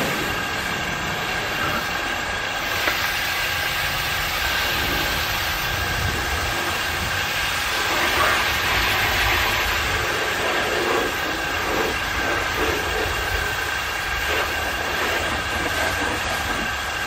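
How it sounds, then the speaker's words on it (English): A water pump on an Eco Rinse machine runs steadily, a continuous broadband hum with a faint tonal whine, holding a constant level throughout with no speech over it. "I'm just letting the pump run just to show you that it's okay if you don't turn it right off."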